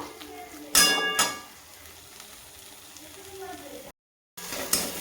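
A flour mixture stirred and frying in oil in a pan, with a steady soft sizzle, a couple of louder scraping stirs, and a brief silent gap before the sizzle returns.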